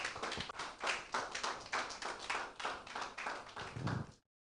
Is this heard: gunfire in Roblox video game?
no